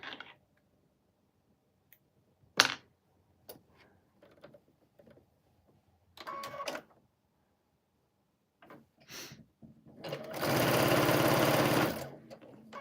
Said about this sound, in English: So now these 2 get sewn.